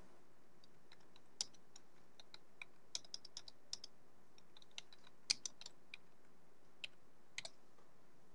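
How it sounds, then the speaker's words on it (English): Scattered keystrokes on a computer keyboard, sharp isolated clicks coming in irregular short bursts with quiet gaps between them, close and fairly soft, with no speech. "we are going to type the words"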